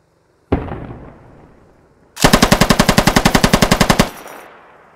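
Russian PKP machine gun in a video game: a single sharp report with a decaying tail, then a loud, close, continuous burst of about twenty evenly spaced rounds lasting nearly two seconds before stopping, no voices.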